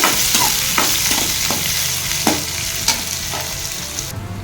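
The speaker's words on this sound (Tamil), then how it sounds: "கடுகு, ஜீரகம், வெந்தயம், வெங்காயம் போட்டுக்கலாம். பொரிஞ்சதும் நல்லா வதக்கிக்கோங்க." Mustard seeds, cumin, fenugreek and onion sautéing in hot oil for brinjal and broad bean sambar, a steady close sizzle with repeated scraping stir strokes about every half second, no voices.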